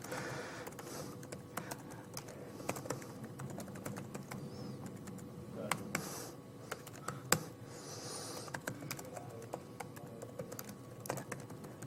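Typing on a computer keyboard, a quick irregular patter of close key clicks running throughout, with occasional louder strokes and no talking.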